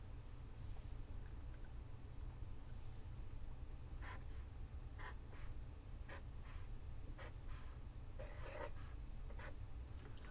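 A pen or pencil writing by hand on paper while a math problem in other number bases is worked, giving faint, close scratchy strokes in irregular bursts over a low steady hum, with no talking.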